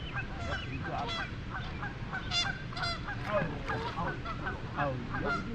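Adult geese honk repeatedly near the water's edge, a dense overlapping chorus of loud harsh calls with no pauses throughout.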